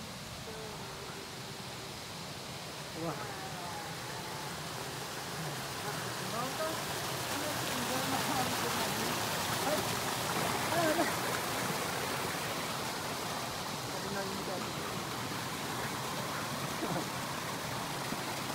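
Water pours steadily at a waterfall in Shivapuri National Park, a dense, continuous rushing roar with no pauses, and a voice speaks briefly over it.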